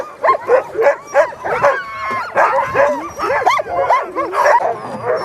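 Several sled dogs in a kennel bark, yip and whine excitedly at once, a dense, continuous overlapping chorus close by with no talk over it.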